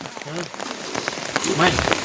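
Rain falls steadily in the open, a continuous patter behind a voice talking at intervals.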